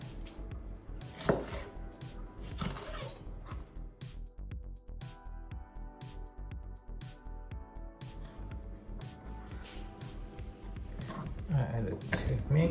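An onion being chopped with a knife on a board for a vegetarian salad, irregular crisp knife taps throughout, quiet and close, with a person talking over the cutting.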